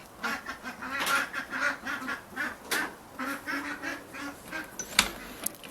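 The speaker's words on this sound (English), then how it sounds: "And the other ducks are outside there." Ducks quack repeatedly in quick, irregular bursts on a homestead, close and fairly loud, with a chicken nearby and one sharper call near the end.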